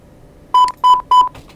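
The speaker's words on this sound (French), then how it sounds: "notre alarme commence à se faire entendre." Three loud electronic beeps from a homemade low-battery alarm circuit built around an N-type JFET transistor, sounding as the battery reaches about 10 volts, each tone about a fifth of a second long at an even pace, with no talk.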